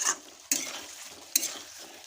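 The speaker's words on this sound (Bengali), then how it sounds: "এইভাবে একটু নেড়ে নিতে হবে।" A spoon stirs cauliflower masala in a hot pan, two sharp scraping strokes each followed by a fading sizzle, close and alone.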